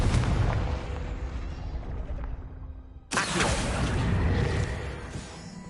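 A Confringo fire spell in Hogwarts Legacy bursts with a single sharp, loud blast partway through, followed by a sustained roaring rumble that slowly settles, over a dull rumbling background.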